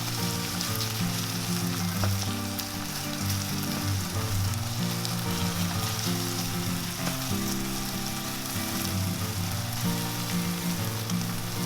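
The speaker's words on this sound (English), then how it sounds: "Spread the chicken out into a single layer and let it fry for a bit." Steady, loud sizzling of chicken spread in a single layer frying in a hot pan for chow mein, a continuous crackle throughout with no talking.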